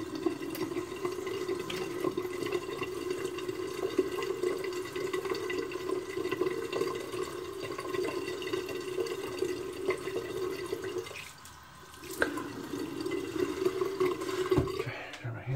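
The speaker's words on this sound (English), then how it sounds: "Rinse my face with some warm water." Warm tap water runs steadily while a face is rinsed during a wet shave. The rushing splash continues close by, drops out briefly near the end, then returns.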